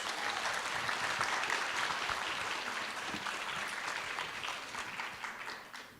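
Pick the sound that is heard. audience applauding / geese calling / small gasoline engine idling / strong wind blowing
audience applauding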